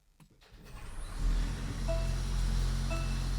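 A Mercedes-Benz CLA 250 started with the push button after a short delay: a faint click and whir, then the engine catches and settles into a steady low idle.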